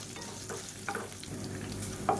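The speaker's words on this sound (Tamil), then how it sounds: "இப்போ இது எல்லாம் நல்லா வதங்கிடுச்சு." Green chilies and onions sauté in a pan with a soft, steady sizzle and occasional stirring scrapes, quiet and close, with no talking.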